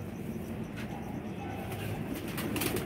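Pigeons, among pairs of Ferozpuri birds, give soft, faint low coos over a dull background hiss with a few light rustles toward the end.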